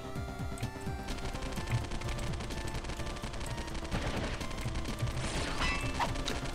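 Rapid gunfire from shooting in the video game Bugs Must Die, heard as a dense, continuous stream of quick automatic shots over a busy game soundscape, fairly quiet in level.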